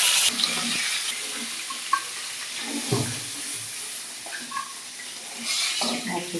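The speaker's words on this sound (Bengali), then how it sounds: "প্রথমে তেল দিলাম, ইলিশ মাছ তেলের মধ্যে পড়ে গেল" A hilsa fish head fries in hot oil, giving a bright, hissing sizzle with intermittent spatters and pan clatter from stirring.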